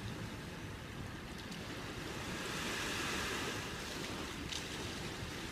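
Ocean waves wash onto the beach at Junquidou in a steady, soft, broad hiss of surf with a gentle swell, fairly quiet and with no voices.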